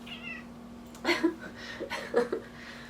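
A cat meows a few times close by, short rising calls in quick succession against a quiet indoor background.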